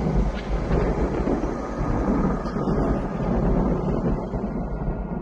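Thunder rolls in a long, steady low rumble, loud and continuous, with wind-like noise layered over it and no voices.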